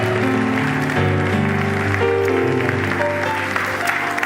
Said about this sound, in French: je vous garantis l'applaudissement pour l'apôtre Jean ce matin